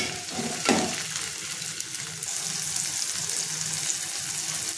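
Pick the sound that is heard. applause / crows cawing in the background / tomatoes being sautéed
tomatoes being sautéed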